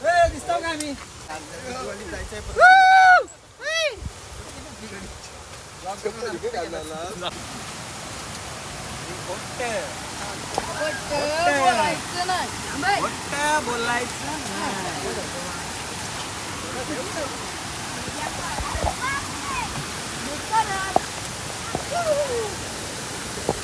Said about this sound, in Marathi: खळखळ असा झरा वाहतोय. वरतून असा धबधबा.